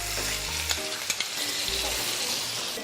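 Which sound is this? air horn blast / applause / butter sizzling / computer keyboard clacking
butter sizzling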